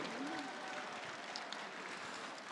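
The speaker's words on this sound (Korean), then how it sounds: "박수를 보내주십시오." Steady applause from an audience at a Korean entertainment arts awards ceremony fills the whole stretch, a dense wash of clapping with a brief voice-like tone near the start.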